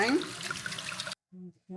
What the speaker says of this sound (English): we're going to stir in 3 cups of wine